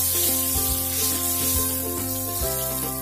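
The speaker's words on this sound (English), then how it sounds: "now we'll add the dry roasted whole garam masala which has been crushed." Crushed, dry-roasted whole garam masala sizzles in hot oil for Mughlai chicken, a close soft hiss with several dull knocks and stirring clatters against the pan.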